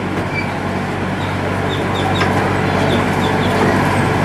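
The Gatorland Express train rolls through its station with a steady, loud rumble. Faint high chirps that sound like birds or squeaks sit on top of the noise.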